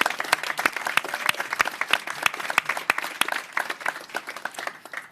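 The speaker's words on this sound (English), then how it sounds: "Let's give Creighton a round of applause." A small audience at a mayoral press conference gives a round of applause, with distinct individual claps ringing out in a steady patter that tapers off toward the end.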